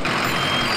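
A bus idles with a steady, close engine drone and a continuous broadband rumble, and a reversing beep sits faintly in the mix. Both run evenly through the short moment and nobody speaks over them.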